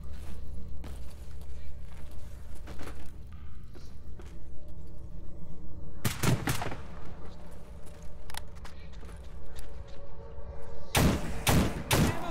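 Shotgun blasts in the video game Stalker GAMMA, one loud sharp shot near the middle followed later by a rapid burst of several blasts, over a low rumbling game ambience with scattered footstep-like thuds.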